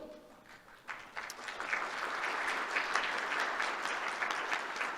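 Audience applause at the grand opening of the Upshur Institute for Civic Education, starting after a brief voice and then swelling into sustained, dense clapping from a sizable crowd that holds steady to the end.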